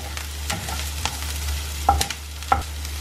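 A spatula stirs and scrapes through egg bhurji frying in a pan, with a low steady sizzle beneath a few sharper clinks of utensil against metal; no one speaks.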